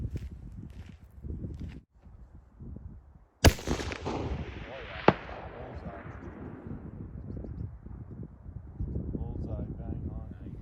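A single sharp rifle shot at target practice during a spring black bear hunt in British Columbia, a loud crack that rolls off into a long fading echo, with quiet outdoor noise and movement before and after.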